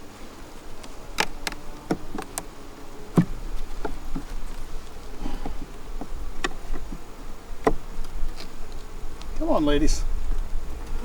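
Honey bees buzz softly around an opened hive checked for new queens, with scattered light clicks and knocks. One bee drones past close by near the end, and a person speaks briefly.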